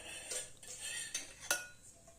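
A metal pan is set down on a kitchen stove before tempering, giving a few light clanks and clinks of cookware, quiet and close, with no talking.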